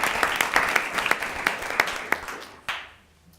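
Applause from a board of trustees meeting audience honoring incumbent trustees, a steady patter of many hands clapping for about two and a half seconds, with a few louder claps before it fades out.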